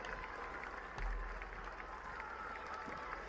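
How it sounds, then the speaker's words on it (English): Crowd applause at the finish of a masters BMX race at a world challenge event, a steady wash of clapping and cheering from spectators, fairly distant and held at an even level throughout. "Let's give Thor a round of applause, ladies and gentlemen"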